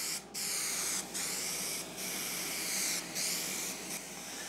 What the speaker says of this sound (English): So I'm spraying the wood part here